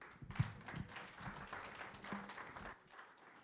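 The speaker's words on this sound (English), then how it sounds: "Another round of applause for Fred" An audience applauds a speaker at the close of a fertilizer rebranding and website launch event, a short burst of hand clapping with a few sharper taps, fading out after about three seconds.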